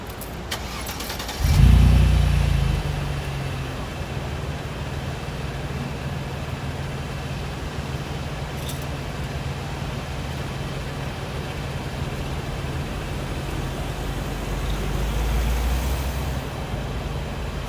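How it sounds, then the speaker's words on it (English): Car engine left idling on a road-trip stop to keep a fridge powered, starting with a loud burst and then settling into a steady low rumble that runs throughout, with no talking. "I'll leave the car running for a minute."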